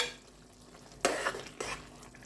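Turnip and spinach curry with homemade garam masala being stirred and roasted in a pan, two short scraping sizzles a moment apart after a quiet low hum.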